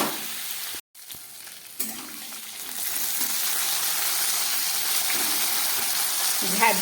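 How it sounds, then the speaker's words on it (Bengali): Okra with turmeric frying in a pan, a loud hissing sizzle that swells after a brief cut and then holds steady and close, with a few light utensil knocks. "খুব ভালো করে এবার একটু ভেজে নেব।"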